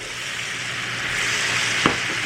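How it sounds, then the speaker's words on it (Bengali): Boiled eggs dropped into a sizzling spice masala in a pan for egg curry, a steady frying hiss with one brief clack late on. "তো এই ডিমগুলো এই মশলার মধ্যে দিয়ে দিচ্ছি"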